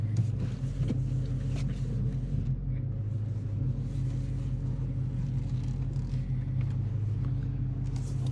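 A car with Hellcat Flowmaster mufflers drives along, its engine a deep, steady exhaust rumble that stays constant and fairly loud under road noise throughout.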